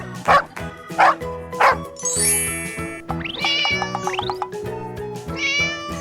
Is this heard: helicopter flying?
no